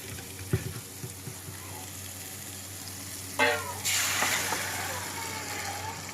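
Chicken pieces go into spice masala in a pan and are stirred, a few clinks and scrapes over a low sizzle, then a louder burst of hissing frying that carries on steadily.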